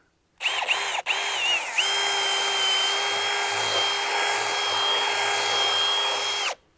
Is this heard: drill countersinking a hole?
yes